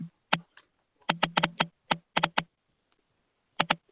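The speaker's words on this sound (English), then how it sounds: "Here you go typing and shit." Crisp computer keyboard typing comes in short clustered bursts of clicks with pauses between them, close and fairly clear, with no talking over it.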